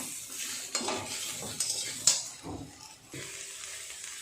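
Mixed vegetables for shukto fry in a pan as they are stirred, soft sizzling under clinks and scrapes of a metal utensil against the pan, fairly quiet and uneven.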